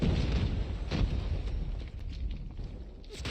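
A frag grenade goes off in a video game, a heavy low boom that rumbles and decays over a few seconds amid ongoing gunfire and game noise.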